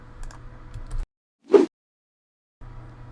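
A brief burst of computer keyboard typing, a short run of close, crisp key clicks between stretches of quiet room tone.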